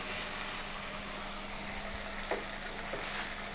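Beef and yogurt cooking in oil for yakhni pulao, a steady, close, dense sizzle that runs throughout with a couple of faint clicks and stirring taps, no voices.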